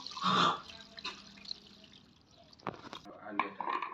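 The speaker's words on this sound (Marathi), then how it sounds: "हे गाळून घ्यायचं एका भांड्यामध्ये" Water, steeped with detox ingredients, is strained into a vessel, trickling and dripping with soft splashes and a few sharper clinks near the end, fairly close and moderately loud.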